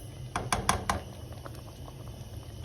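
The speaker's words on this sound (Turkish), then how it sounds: "Ve gördüğünüz gibi kaynamaya başladı." Creamy chicken pasta sauce bubbling in a pan on the stove, a handful of soft, sharp pops and spits over a low simmering hiss, fairly close and quiet.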